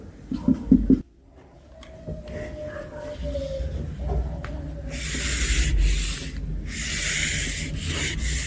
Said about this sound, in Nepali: मैले मेटेँ है यसलाई